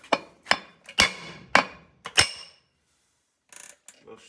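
A 5-pound sledgehammer strikes Ford F150 and Bronco automatic 4x4 hub parts in six sharp metallic whacks roughly half a second apart. Each bang rings briefly and is loud and close, followed by a pause and then quieter clinks.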